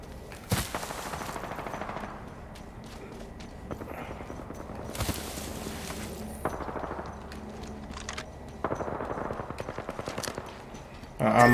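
Gunfire erupts in repeated bursts of rapid shots during an Apex Legends team fight, loud and dense. Quieter spells separate the volleys, and a final burst closes the stretch.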